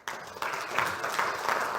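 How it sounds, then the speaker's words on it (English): Audience applause at an industry conference event starts abruptly and continues as a fairly quiet, steady patter of claps in a large room. "a big round of applause to everybody here"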